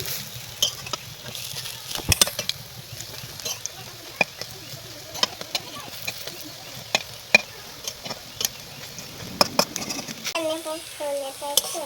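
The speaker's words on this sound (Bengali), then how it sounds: "এবার এই পিঠটা আবার ভালোভাবে ভেজে নেব।" Leaf fritters fry in hot oil with a steady low sizzle, broken by sharp clicks and scrapes of a utensil against the pan, and a few clattering knocks near the end.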